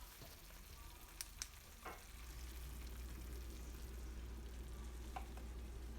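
A sauce of capers and lemon simmers and reduces in a skillet with a soft, steady sizzle and bubbling, quiet and close, with a few faint clinks and stirring sounds.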